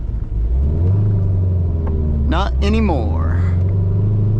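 Cammed C5 Corvette with a six-speed manual loping along at low RPM, driving in the rain, a steady deep rumble throughout with a brief engine swell midway, under a man's speech.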